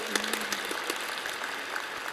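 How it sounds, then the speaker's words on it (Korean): Audience applause for Michèle Gavras at a film directors' open talk, a short burst of steady clapping from the crowd. "한번 미셸 가브라스 여사님께도 박수를 부탁드립니다."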